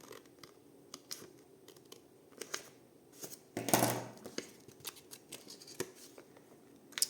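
Scissors cutting through a paper window envelope for a junk journal page, a series of quiet crisp snips and rustles with one louder paper crunch midway, close and alone.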